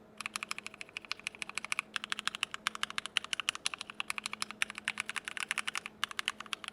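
Fast, continuous typing on a Keychron Q4 mechanical keyboard with brown switches, a close, crisp stream of clacky keystrokes in irregular bursts with brief pauses, no voices.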